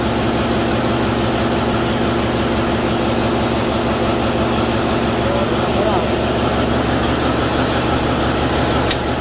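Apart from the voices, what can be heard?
ship main engine running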